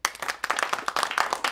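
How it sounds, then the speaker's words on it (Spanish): A short burst of applause for a visitor from the National Council of Neighbours, quick rhythmic hand claps from a small group, close and lively, with no talking. "y para el que pido un fuerte aplauso"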